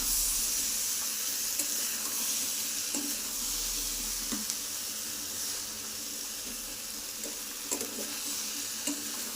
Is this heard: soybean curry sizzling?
yes